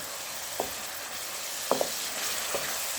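Oil sizzles steadily in a frying pan as a large tomato and spices go in for kali mirch daal mash, with a few soft knocks and stirring sounds over a constant low hiss.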